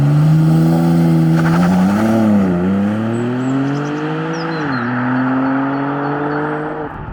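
A BMW M3 Touring with four-wheel drive launches hard under launch control, its engine note loud and rising steadily through several upshifts, each marked by a brief dip, with no talk over it.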